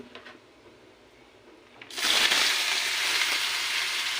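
Pieces of bottle gourd drop into a pan of hot oil with cumin and black cumin, setting off a sudden, bright sizzle that keeps crackling steadily close up.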